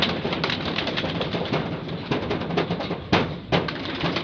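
Pigeons cooing at a loft of breeder birds, soft repeated coos over a busy background with a few sharp taps, fairly close and without talk.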